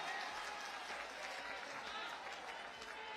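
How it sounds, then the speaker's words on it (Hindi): A large audience claps to welcome the Samajwadi Party national president at a virtual-rally press event in Lucknow. The applause is steady, dense and fairly distant, running the whole moment without a break. "समाजवादी पार्टी के राष्ट्रीय अध्यक्ष जी का ताली बजाकर इस मंच पर आप स्वागत करेंगे।"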